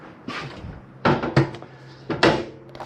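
Drawer being opened in the kitchen of a 2023 Jayco Eagle HT 280RSOK camper trailer, with several short sliding knocks and a sharp clack near the middle, close and moderately loud.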